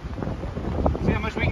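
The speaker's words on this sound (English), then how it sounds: "the wind is really windy here" Strong outdoor wind buffeting the microphone before a storm, a loud continuous low rumble that swells and gusts throughout while someone talks over it.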